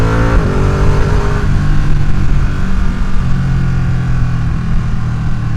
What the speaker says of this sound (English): it revs and it's really torquey, but it doesn't feel like it's like as screaming and as snarling as the 675's motor